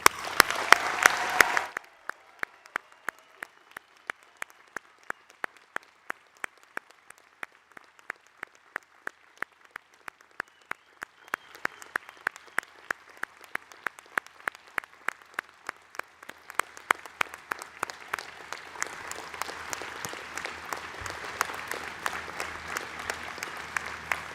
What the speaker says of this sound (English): Please join me in congratulating our graduates by giving them a warm round of applause.